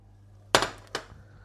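Large oats being stirred into a pan for flapjacks, heard as two quick, close metallic clinks of a spoon against the pan, about half a second apart, with no talking.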